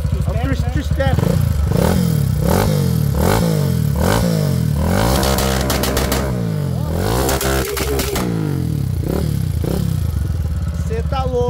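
Honda Titan 150 motorcycle fitted with a 32mm XRE 190 throttle body and two-step launch control, revved hard close by in repeated rising and falling bursts, loud and continuous, with some clatter and voices in the background.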